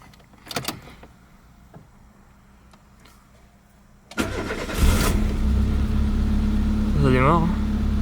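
A Peugeot 205 running on ethanol starts in cold weather at minus ten degrees. After a few clicks and a quiet pause, the starter cranks briefly, then the engine catches and settles into a loud, steady idle up close, with a voice talking over it.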